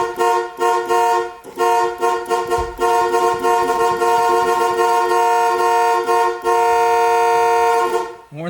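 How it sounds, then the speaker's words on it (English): The horn of a 300,000-mile pickup truck honks loudly and close by in a series of blasts, some short and some held, ending in one long sustained tone. "Horn's pretty clean."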